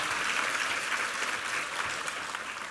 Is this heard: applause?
yes